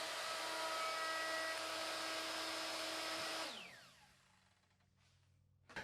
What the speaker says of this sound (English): that spiral upcut bit coming through the part